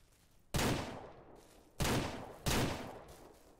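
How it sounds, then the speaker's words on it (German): Three sharp, loud gunshots in the video game Ranch Simulator ring out alone, each followed by a short fading echo, the last two coming closer together. "Ich habe einen Schuss abgegeben und bin umgekippt."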